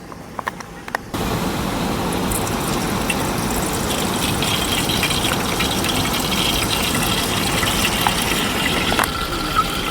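Oil being poured into a heated cooking pot outdoors by a river for a village chicken curry, a steady gushing rush starting after a second of quieter clicks and running on continuously at close range.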